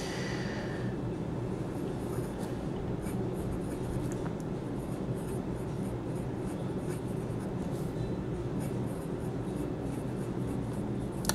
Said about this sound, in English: the pen writes much smoother now